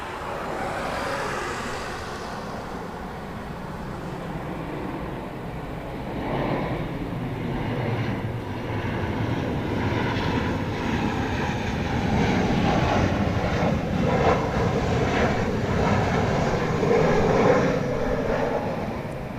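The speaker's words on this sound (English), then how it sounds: "bring you the arrival of this plane from Vietnam." A jet airliner arriving from Vietnam at Incheon International Airport, Seoul, roars overhead, its engine noise swelling and shifting steadily as it passes at moderate distance.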